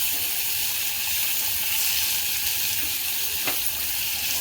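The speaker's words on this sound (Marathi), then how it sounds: "कांदा थोडासा चांगला त्या तेलावर परतून घ्यायचा आहे" Chopped onion sautés in oil for masoor dal, a steady, soft sizzle holding evenly throughout with a faint stir or clink near the end, no voices.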